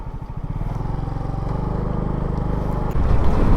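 Suzuki Smash 115 motorcycle with a 14x34 sprocket riding along, its engine droning steadily and close, with a louder surge near the end.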